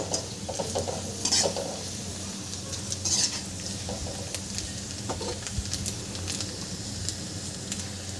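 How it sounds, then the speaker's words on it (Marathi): Crushed peanuts stirred in a frying pan, a steady scraping and soft sizzle with a few louder clinks of the spoon against the metal, continuous and close, with no talking. "याला छान मिक्स करून घ्यायचं आहे"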